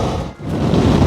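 Strong head-on wind buffeting a microphone while riding a motorcycle along Ruta 40 through the Siete Lagos region, a loud continuous rushing roar with a brief dip.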